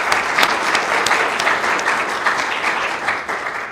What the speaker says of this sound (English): A quick round of applause to them.